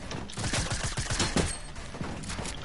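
Rapid gunfire in a shooter video game, dense bursts of shots crackling continuously at close range with no pauses, loud and steady throughout.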